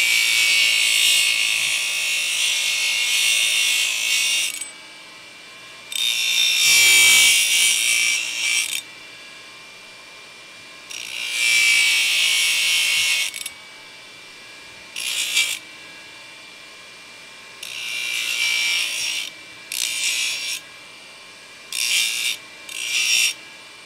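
A grinder works down a horse's hoof at a painful, bleeding quarter crack in loud repeated bursts of several seconds each, separated by short pauses, with no talking.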